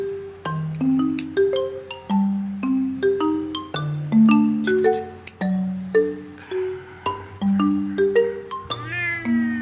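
A young female black cat meows repeatedly while her nails are clipped, a quick series of clear, close, insistent mews with falling pitch, heard alone without talk.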